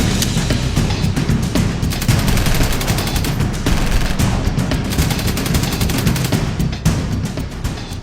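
Dense, loud gunfire in continuous overlapping volleys, with rapid machine-gun bursts and booms sustained throughout.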